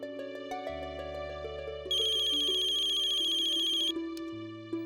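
A phone ringtone plays as a call is placed in a Hindi family drama home scene: a steady melodic electronic ring with a bright tone added partway through, loud and alone with no talking.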